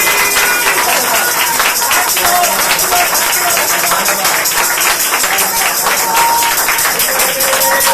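Loud, dense applause from a church congregation during a Thursday worship service, a steady wash of clapping that holds for the whole stretch with no let-up.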